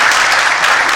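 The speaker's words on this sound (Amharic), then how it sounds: "አመስግኑልኝ ከፍ ባለ ጭብጨባ" Loud audience applause at a Sunday school graduation ceremony, a dense continuous burst of many hands clapping at once, close and with no talk over it.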